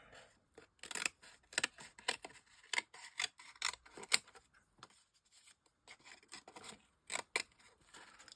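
Scissors trim material in a run of close, crisp snips and cutting clicks, irregularly spaced and fairly faint, with no talking.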